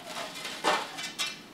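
A large frying pan handled in a kitchen, giving a couple of soft metallic scrapes and clanks close by, with no talking.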